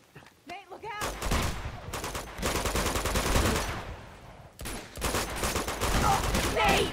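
Gunfire in the Uncharted 2: Among Thieves video game, with dense rapid bursts of automatic shots after a brief lull, breaking off for a moment before another heavy volley, mixed with voices talking.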